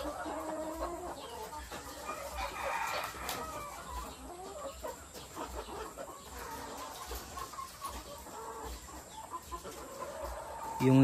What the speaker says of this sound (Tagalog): Yung nakalagay po dito na manok,